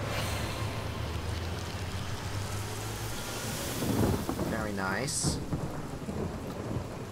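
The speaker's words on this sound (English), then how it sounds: "Let's make it rain. Put out all this fire." A rain spell in the video game Divinity: Original Sin, with a steady hiss of rainfall and a low thunder rumble swelling midway, while someone talks briefly over it.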